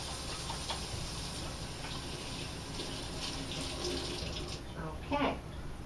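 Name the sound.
rinsing hands under running tap water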